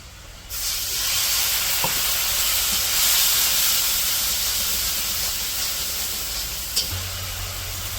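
Ginger-garlic paste and spices fry in a pan, giving a loud, steady steam-like hiss that starts suddenly and carries on almost unchanged, with a couple of faint knocks, no talk.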